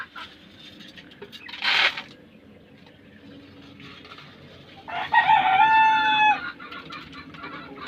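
A rooster crows loudly and close by among Rhode Island Red and native chickens, with a burst of squawking flapping first and quieter clucking and farmyard rustle between calls.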